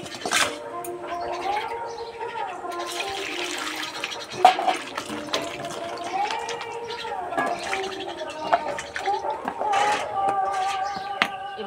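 Eggplants are rinsed under running tap water, a steady close splash and trickle with scattered knocks and handling sounds throughout.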